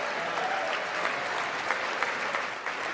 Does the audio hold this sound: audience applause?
yes